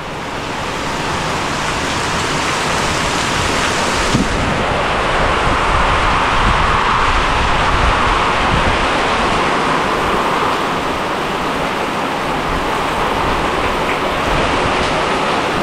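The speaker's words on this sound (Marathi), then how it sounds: "आणि संध्याकाळी आता आहे ना, पाऊस बघा केवढा आला आहे" Heavy monsoon rain pours down on a Konkan village in the evening, a steady, loud, continuous roar of falling water with gusty wind, unbroken and without voices.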